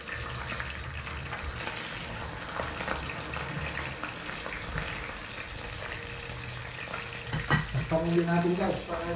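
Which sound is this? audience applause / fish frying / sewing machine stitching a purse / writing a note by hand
fish frying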